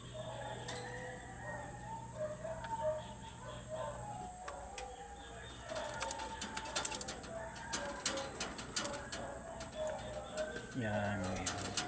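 A pet African bird coos softly and repeatedly nearby, with a voice talking intermittently over the calls and faint background chatter.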